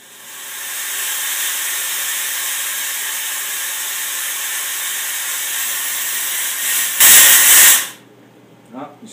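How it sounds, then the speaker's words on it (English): A fog machine being cleaned sends out a steady, loud hiss of spraying vapor that swells in over the first second, holds for several seconds, then ends in a brighter harsh burst before cutting to near silence. "Once you have the stream coming out and it's just basically a mist or a vapor, then you know you've got all the fog out of the system."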